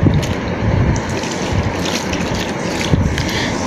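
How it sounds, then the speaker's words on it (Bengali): Young gourd leaves washed under running water, a continuous splashing gush with rustling and slapping of wet leaves, close and fairly loud, no voices. "শাকগুলোকে আমি এভাবে ভালো করে ধুয়ে নিচ্ছি।"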